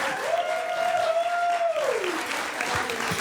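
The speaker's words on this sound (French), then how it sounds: "qu'on peut applaudir, je pense" An audience at a comedy show in a barn applauds the owner of the venue, with a sustained wash of clapping and a long rising and falling whistle riding over it.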